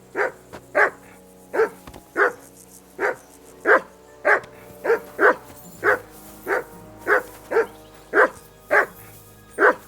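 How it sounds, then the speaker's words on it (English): A dog in Kingdom Come: Deliverance 2 barks again and again, roughly fifteen sharp, evenly spaced woofs at close range that keep a steady rhythm, with no talk over them. "Say something to that dog."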